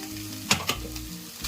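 Chicken and vegetables fry hard on high flame, a steady sizzle broken by a few sharp stirring scrapes.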